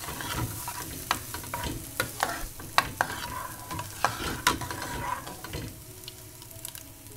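A spoon stirs crunchy fried onion tempering with added dal in a pan, producing irregular scraping clacks over a soft steady sizzle, close and fairly quiet.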